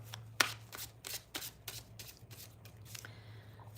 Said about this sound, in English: All right, I'm shuffling my decks.